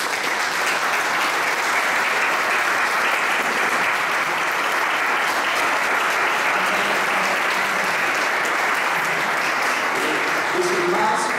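Sustained audience applause at a memorial event honoring families at the Chelva mass grave exhumations, steady and dense throughout, with no speech over it.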